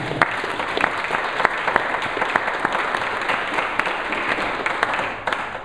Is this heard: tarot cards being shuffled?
no